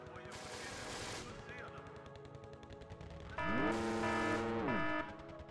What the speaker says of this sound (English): Lots of machine guns in there. Loads of machine guns.